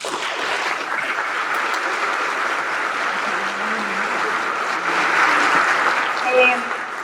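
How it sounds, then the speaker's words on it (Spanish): An audience at the opening of a congress on ethics and probity applauds a speaker, sustained broadband clapping that holds steady for about seven seconds, swelling slightly near the end, with faint voices mixed in beneath. "Recibámosla con un gran aplauso."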